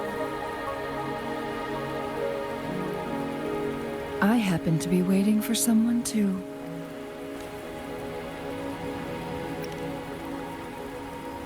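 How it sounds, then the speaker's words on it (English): Steady rain falls in the Wuthering Waves video game, a soft continuous wash heard throughout with game music tones, and a voice speaks briefly in the middle. "Are you trapped here by the rain?"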